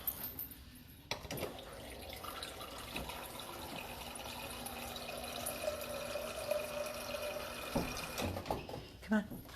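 Water runs from a tap to refill a pet's water bowl, a steady close trickle lasting several seconds with clattering handling noises at the start and end.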